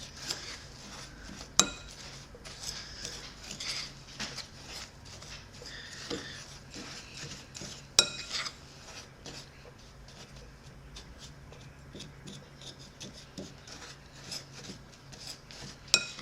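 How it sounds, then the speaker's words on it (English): Brown sugar clumps get mixed and smashed in a bowl, giving soft, continuous scraping and rubbing at low volume, with a few sharper clinks of utensil against the bowl scattered through. "Now I'm gonna mix all this together. Kind of smash up the clumps of brown sugar."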